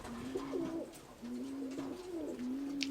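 Pigeons in a dovecote coo in close, repeated low rounded calls, one bird after another, with a brief faint chirp near the end and no talking.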